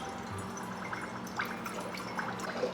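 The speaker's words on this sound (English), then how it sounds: "I've got my bottles, and I'm just gonna pour it in." Homemade ginger beer is poured into bottles as a soft, continuous liquid trickle, with a few light drips and clinks, close and fairly quiet.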